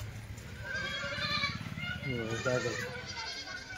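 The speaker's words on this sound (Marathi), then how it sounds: "गाडी मध्ये बकरी गाडी भरताना." Kathiawadi goats bleat repeatedly while being loaded into a vehicle, the wavering calls overlapping in a close, busy chorus with people talking throughout.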